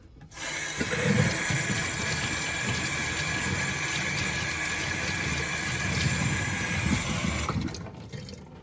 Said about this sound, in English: This cleaning solution is water soluble. So all I'm gonna do is rinse it off here.